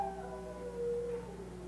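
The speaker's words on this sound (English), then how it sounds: "Listen to those dogs howling." Several dogs howl together in long, wavering tones, sustained and moderately distant, with no talking.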